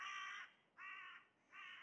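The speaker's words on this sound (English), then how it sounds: "Excuse the bird noises." A crow gives three harsh caws, evenly spaced and fairly faint, outdoors beside the new Everton stadium under construction at Bramley Moore Dock in Liverpool, April 2024. No one speaks.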